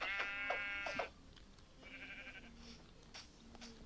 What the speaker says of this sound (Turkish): burada da ne çok fazla koyun varmış yani ya